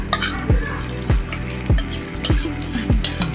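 A spoon scrapes and clinks in a pan as chicken with ginger paste, garlic paste and ready-mix roast spice is stirred and sautéed. About six rhythmic strokes sit over a soft, continuous sizzle.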